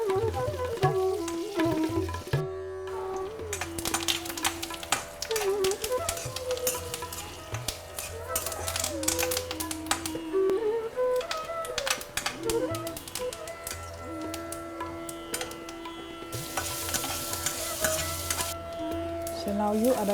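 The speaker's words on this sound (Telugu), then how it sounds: "సుగంధ ద్రవ్యాలు వేసి కరివేపాకు, పసుపు పొడి, మిరపకాయలు మరియు ఇంగు వేసి కలపండి." Spices, curry leaves, turmeric, chillies and asafoetida frying and being stirred in a pan for lemon rice. A steady sizzle runs with frequent tapping and scraping, over a tonal background.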